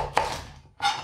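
A knife chops through carrots on a board, two crisp cuts a split second apart, close and alone.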